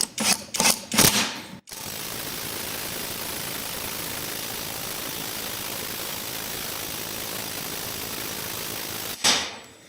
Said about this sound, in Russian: Стучим примерно 10 секунд на каждую гайку.